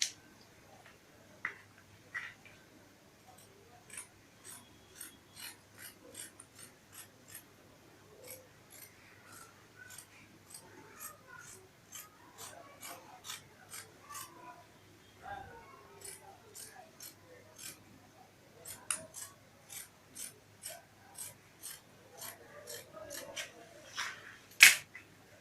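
Scissors cutting a fabric dress pattern for a button-down belted shirt dress, heard as a long series of crisp, faint snipping clicks in quick irregular runs with brief pauses, close by and quiet.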